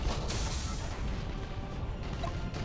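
Stasis bomb detonating in the space combat game Battlefleet Gothic Armada, a dense, steady low rumble of explosion noise with a brief sharp crack near the start and a short whine late on, loud throughout.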